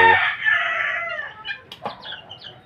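A young roundhead gamecock stag crows once, loud and close, with a rising then trailing cock-a-doodle-doo, followed by a few short clucks and chirps from nearby fowl.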